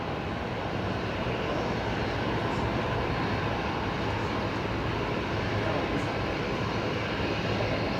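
A QantasLink Airbus A220 jet arriving from Melbourne gives a steady, fairly distant broadband engine roar that holds even for several seconds with no talk over it.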